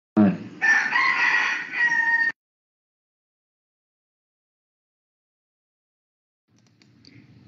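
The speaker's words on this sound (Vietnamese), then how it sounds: "Tiếng gà gái nghe rõ ha?" A rooster crows once close by, loud and rising then held, before a long silence and faint low murmuring at the end.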